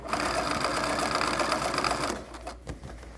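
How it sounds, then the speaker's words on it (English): A sewing machine stitches a pillowcase in a circle, running as a loud, steady mechanical whir of rapid needle strokes for about two seconds before slowing into a few separate clunks as it stops. "I'm sewing in a circle, and I will get my, I will seal my stitch."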